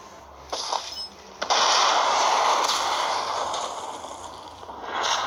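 Gunfire in the combat video game Modern Combat 5: sharp cracks followed by a dense, noisy burst of shots that decays slowly, loud and close, with no talking.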